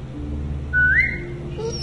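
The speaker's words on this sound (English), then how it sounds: "Now whistle and tell her to lie down." A rising whistled note in The Walking Dead video game, sounded once as a call to a dog, with steady low background hum beneath it.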